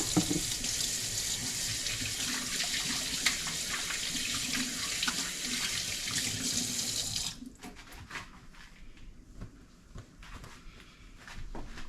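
Tap water runs steadily into a kitchen sink for hand washing while cooking, a loud continuous rush that cuts off abruptly partway through, leaving quieter handling noises.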